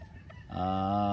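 A hen gives a brief, drawn-out call, close and clear against a quiet background.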